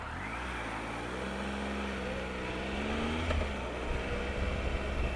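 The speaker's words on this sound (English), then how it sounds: "Lots of traffic here." Road traffic queuing at roadworks near Ipswich, heard while riding, comes through as a constant low engine drone and rumble that swells slightly toward the end, with no voices.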